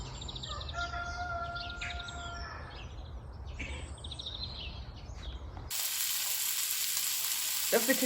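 Pork mince sizzling and crackling steadily in a pan over a low hum, with some faint clicks and clatter. Midway the sound cuts to a hissier, brighter frying texture.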